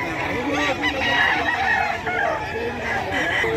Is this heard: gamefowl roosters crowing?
yes